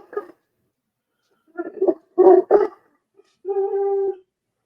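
Pet dog whimpering and whining close up in short separated bursts, ending in one longer drawn-out whine, with no talk.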